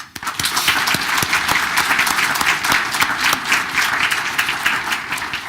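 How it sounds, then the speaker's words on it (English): An audience at a township committee reorganization meeting gives a round of applause for a committeeman, sustained clapping that rises quickly and stays full and steady for several seconds. "Please join me in a round of applause for Committeeman Robert Britting"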